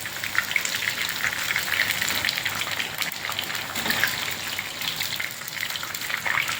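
Sliced brinjal sizzles steadily in a hot pan of oil, a dense, even crackle with fine popping spatters running throughout, close and moderately loud with no talking.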